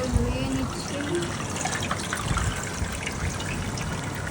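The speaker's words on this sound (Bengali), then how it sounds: "চালটাকে ধুয়ে নিব ভালো মতো ধুইতেই থাকবেন, ধুতে থাকবেন যতক্ষণ পর্যন্ত পরিষ্কার না হবে।" Running water swishing and trickling as rice is washed for biryani, a steady close wash of liquid with faint tonal sounds underneath.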